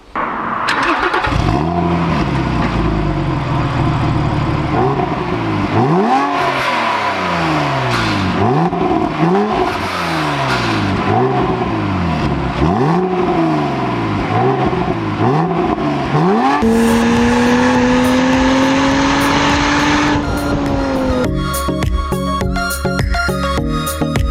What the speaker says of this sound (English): let's start up that flat 6, listen to it purr